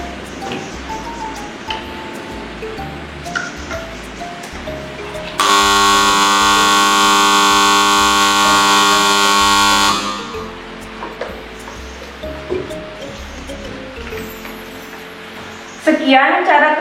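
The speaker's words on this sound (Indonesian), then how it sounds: "diikuti dengan buzzer yang akan berbunyi sebagai tanda bahaya" A flood detector prototype's steady electronic buzzer alarm blares continuously for several seconds, loud and piercing, then stops; a voice speaks before and after it.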